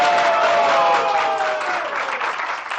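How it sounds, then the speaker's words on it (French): A TV show audience breaks into steady applause, loud and sustained for a few seconds before thinning slightly toward the end. "est-ce qu'on peut applaudir pour elle?"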